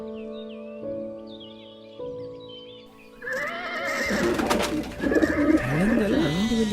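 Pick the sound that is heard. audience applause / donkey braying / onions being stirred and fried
donkey braying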